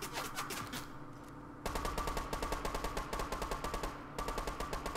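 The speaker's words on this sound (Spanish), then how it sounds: "Están disparando." Gunfire in the video game Fortnite, a sustained rapid automatic rattle of evenly spaced shots that pauses briefly and resumes, steady and moderately loud with no talk over it.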